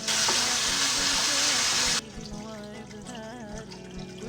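Yogurt meets a hot pan of frying whole spices for a lamb korma: a loud broad sizzle that drops abruptly to a softer bubbling hiss, with a voice talking over it.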